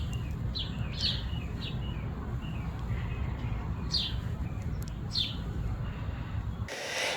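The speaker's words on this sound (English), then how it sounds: "watch this adorable little bird" A small bird sings outdoors near a tree, giving a few short, bright chirps spaced irregularly over a steady low rumble of wind or traffic.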